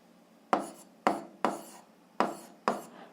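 Five pen strokes scratch onto paper while writing out math, each a short, crisp, close scrape in an uneven rhythm, set against quiet.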